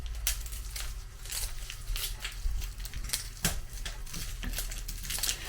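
Papery onion skin is peeled by hand in a home kitchen, giving quiet crackles and tearing snaps in an irregular rhythm, close by and faint, with no talking.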